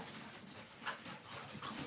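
Dogs playing together on an upper deck, with soft whimpers and small yips coming through steady background noise over about two seconds.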